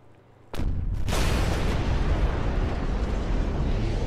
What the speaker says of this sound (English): Alright, so they got Michael Bay explosions.